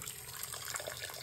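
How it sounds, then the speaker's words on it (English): Costume jewelry with rhinestones rinsed under a running tap, a steady, close splashing rush of water into a sink that holds evenly throughout with no talk. "And you definitely want to rinse it off really, really well."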